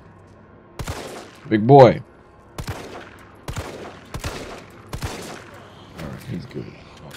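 Gunfire in the Resident Evil 3 Remake demo: several separate sharp shots at irregular intervals, fairly close and moderately loud, with someone talking between them.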